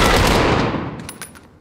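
A loud, dense burst of automatic gunfire from Call of Duty Modern Warfare Warzone plays up close, tapering off in a few trailing shots.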